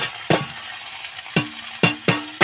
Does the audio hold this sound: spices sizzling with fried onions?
yes